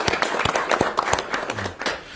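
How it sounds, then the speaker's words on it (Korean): An audience at a government budget meeting claps in scattered, uneven bursts, with a few sharp claps standing out over the room noise. "다 같이 한 박수 한번 주시기 바랍니다"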